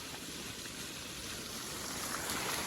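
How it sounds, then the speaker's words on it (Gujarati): Water gushes from a well pump motor on a farm, a steady, soft hiss of flowing water that stays even and fairly faint, with no voices heard. "અત્યારે તો પાણી કૂવામાં ઉપર્યું એટલે મોટર પાણી ફાસમ ફાસ કાઢે"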